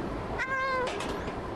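A cat in the video game Stray gives a single clear meow over steady background game ambience, with no talking.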